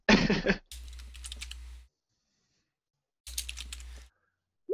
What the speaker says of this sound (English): Quick typing.